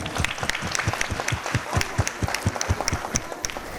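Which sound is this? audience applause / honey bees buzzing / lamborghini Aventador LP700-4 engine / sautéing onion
audience applause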